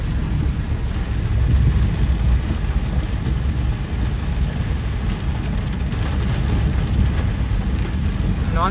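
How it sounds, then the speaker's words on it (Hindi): Heavy, steady rain pouring down on a flooded road in Hyderabad with a dense, continuous roar and low rumble, loud and unbroken throughout. "इतनी बारिश हो रही है।"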